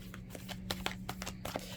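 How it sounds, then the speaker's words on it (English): Tarot cards being shuffled by hand, a soft, close run of quick papery riffles and flicks at low volume with no talk. "I shuffled these. I'm going to pull a couple of these off the top."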